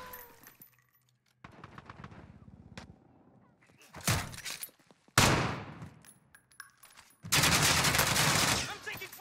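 Bursts of automatic gunfire in Call of Duty Warzone, with sharp shots and rapid volleys rising to a loud sustained fusillade near the end, separated by quieter gaps.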